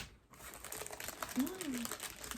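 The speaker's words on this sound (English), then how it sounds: "you're going to hear some crinkling, I apologize" Packaging crinkles in soft, irregular bursts at close range, quiet overall, with a person talking over it.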